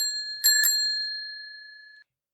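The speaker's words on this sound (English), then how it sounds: "If you guessed a bicycle bell," A bicycle bell rings twice in quick succession, bright and close, its metallic tone ringing out and fading over about a second and a half.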